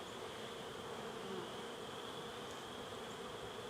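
Honeybees buzz steadily around an open hive during a spring inspection, a dense, continuous drone of many insects close by with no talking.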